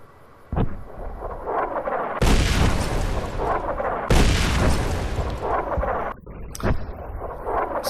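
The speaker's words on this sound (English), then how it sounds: "once you hear the first boom, that's when you know, that's the first boom. It means they're launching" Heavy artillery launch booms in the video game Fallout New Vegas, with two big deep blasts rolling out into long rumbling tails and a few sharper cracks, loud and close and with no talking.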